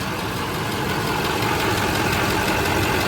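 A Chevrolet Duramax engine idles with its AC compressor clutch engaged and spinning, giving a steady, unbroken mechanical hum and rumble that holds at an even level throughout, close and without speech.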